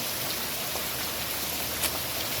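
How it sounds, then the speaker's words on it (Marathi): Heavy rain pours down in a dense, steady hiss with no break, drops drumming on surfaces close by. "अरे यार हा पाऊस थांबणार की नाही"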